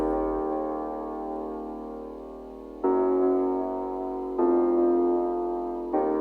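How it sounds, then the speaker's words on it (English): A sampled Scorch piano plays sustained chords that follow the bass root notes in a trap/drill beat, with three clear chord changes, dry and unaccompanied. "So the next sound I added is a piano from Scorch,"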